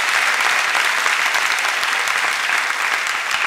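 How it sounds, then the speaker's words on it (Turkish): A studio audience applauds loudly, dense and even clapping that fills the room for several seconds without any talk over it. "İkisini de bir kere biz şahane bir şekilde alkışlıyoruz."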